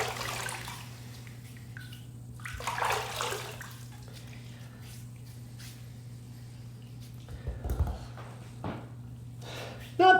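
Water runs under a tap to rinse a Gillette Mach 3 cartridge razor after a head shave, a steady low hiss with brief splashes and knocks, fairly quiet and close, with no talking.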